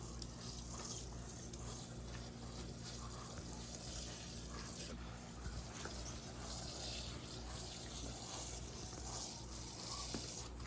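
Watering microgreen trays of arugula from above, a steady continuous wash of water falling over the trays that stays even throughout, with a low background hum.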